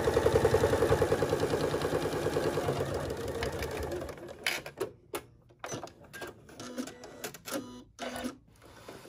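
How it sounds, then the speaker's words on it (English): Sewing machine stitching a quarter-inch seam across a tote bag, a fast rhythmic mechanical chatter for about four seconds before it stops and fabric is handled with soft rustles and clicks. "I'm going to stitch all the way across this line using a 1/4"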